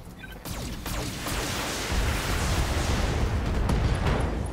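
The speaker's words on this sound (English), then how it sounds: "SRM ammo explosion" SRM ammunition detonating inside a mech in the BattleTech video game: a loud, sustained rumbling explosion with crackling bursts that builds and keeps roaring throughout, with no voices.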